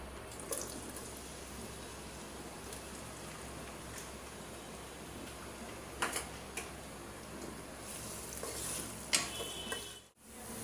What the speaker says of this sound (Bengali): আমার পেঁয়াজগুলো একেবারে ভালো করে ভাজা হয়ে গেছে